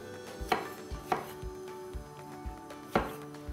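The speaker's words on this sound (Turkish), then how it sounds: "Domatesi ortadan ikiye kestikten sonra kongresi olarak doğruyorum." A knife cuts tomato on a board, a handful of sharp close knocks at uneven intervals over a quiet background.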